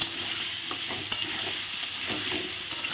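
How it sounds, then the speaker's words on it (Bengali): Potato pieces fry in hot oil with salt and turmeric in a pan, giving a steady close sizzle with a few stirring scrapes and clinks throughout. "এখন ভালো করে আলুগুলো একদম সুন্দর লাল লাল করে আমি ভেজে নেব।"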